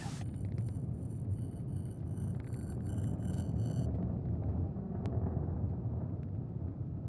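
A SpaceX Falcon 9 rocket roars steadily in ascent, throttling down before max Q on the CSG-3 mission: a loud, continuous low rumble with no break, alone throughout.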